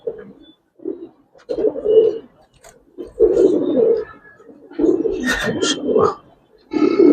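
Giribaz pigeons coo in a loft cage, repeated soft, low throaty calls in several bursts close by, with a few brief higher chirps and faint background sounds between them.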